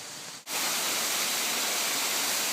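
Beaver Brook tumbling down beside the trail on Mt. Moosilauke, a steady, loud broadband rush of running water that sets in abruptly after a brief dip and then holds constant, close by.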